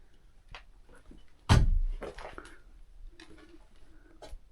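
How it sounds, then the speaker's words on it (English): A sliding door in an abandoned old farmhouse is pushed open with a sudden rumbling thud, followed by scraping and rattling as it runs along, then faint clicks and creaks in a quiet room. "Sliding door"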